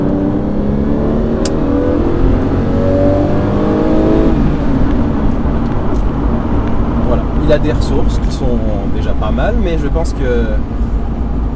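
An Aston Martin DB7 V12 accelerates to overtake on the road, its engine note rising and swelling steadily, loud and close inside the car, with someone talking over it.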